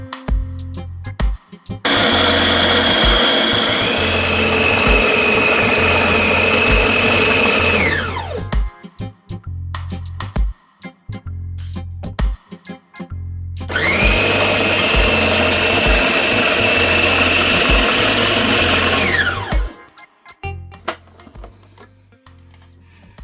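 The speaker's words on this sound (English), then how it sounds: "To start, let's mince the meat." An electric meat mincer grinding chicken meat, some skin left on, for homemade skinless sausage. It runs in two long, loud bursts separated by a pause, and the motor winds down in pitch at the end of each run.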